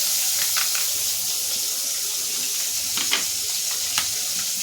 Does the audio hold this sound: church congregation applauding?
no